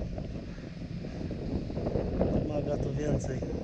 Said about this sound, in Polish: Pomimo wiatr.